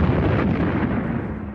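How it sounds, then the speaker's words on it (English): A heavy artillery shell explodes on a World War I battlefield, one loud, deep crash that rumbles and slowly decays over a second and a half, with no voices. "a heavy shell falling every few minutes within a few yards of you, half stunning you with the crash of the explosion"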